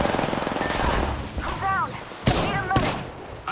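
Rapid gunfire in the video game Apex Legends crackles in fast bursts with a couple of sharp thuds, while a voice speaks over the shots.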